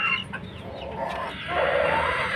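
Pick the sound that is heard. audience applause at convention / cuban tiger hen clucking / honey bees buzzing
cuban tiger hen clucking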